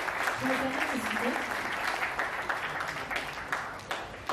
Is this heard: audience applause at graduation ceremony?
yes